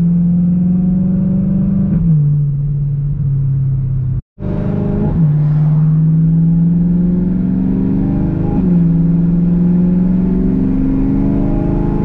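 A BMW E92 M3 with a loud aftermarket exhaust growls and revs up steadily, the engine note climbing and dropping in repeated pulls, close and loud, with a brief silent cut partway through.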